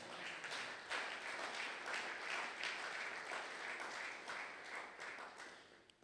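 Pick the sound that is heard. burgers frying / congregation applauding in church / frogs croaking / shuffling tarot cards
congregation applauding in church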